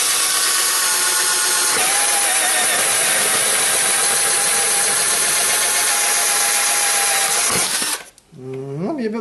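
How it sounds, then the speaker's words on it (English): Power drill bores holes through a homemade stone guard, a steady loud whirring for about eight seconds that dips briefly near the two-second mark and then cuts off abruptly, followed by a faint winding-down tail. "Let's try and drill these holes"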